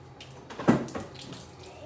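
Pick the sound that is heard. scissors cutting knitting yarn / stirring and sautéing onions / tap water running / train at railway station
tap water running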